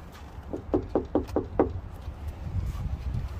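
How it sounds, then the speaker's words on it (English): Knuckles rapping on a house window on a cold Christmas Day, five quick evenly spaced knocks close up, followed by faint background murmur. "Maybe I'll knock on the window."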